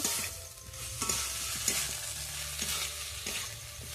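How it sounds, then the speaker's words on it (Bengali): Potatoes and cauliflower stir-fried in a pan for a prawn and cauliflower curry, a steady close sizzle with soft scraping stirs at a loose rhythm, no voices. "এবার আমি আলু ফুলকপি ভেজে রাখা আলু ফুলকপিটা দিয়ে দেবো। ভালো করে"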